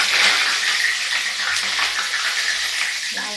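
Whole pointed gourds (potol) fry in hot oil in a pan, giving a steady, dense, hissing sizzle that runs throughout with faint crackles and a few soft clinks near the end.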